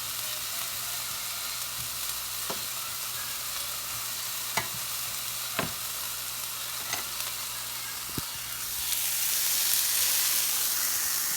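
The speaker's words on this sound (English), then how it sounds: "I saute it until I just start to smell that it's starting to burn a little bit" Onions sauté in a pan with a steady soft sizzle, joined by a few sharp scraping stirs, and the frying grows a little louder near the end; no one speaks.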